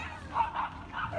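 A dog barks and yips in a park in the evening, three quick moderate bursts close by over steady outdoor ambience.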